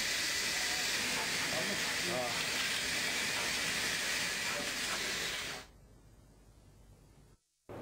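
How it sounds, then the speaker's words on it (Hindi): The Fairy Queen steam locomotive lets out a loud, steady broadband hiss of steam, close by, for about five seconds, then it drops away to a quieter background. "जो ये भाप्स के इंजन चलती इस गाड़ी का नाम फेरी क्वीन है"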